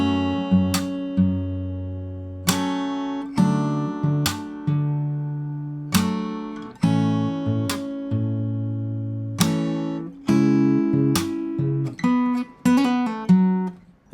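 Fingerstyle acoustic guitar playing the intro of a song at a slow tempo, plucked notes and chords ringing out one after another with clear attacks and decaying sustain, close and alone.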